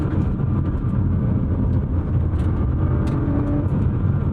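A Nissan R35 GT-R, a front-engine all-wheel-drive car weighing 3,850 pounds, being driven, with a loud, steady blend of engine and road noise running unbroken throughout.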